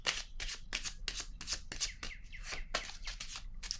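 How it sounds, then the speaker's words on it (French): Tarot cards being set down one by one on a table, a quick series of crisp papery snaps and slides at a steady pace, close and fairly quiet, with no talking. "Je vais déposer par curiosité une carte sur chacune d'elles par curiosité"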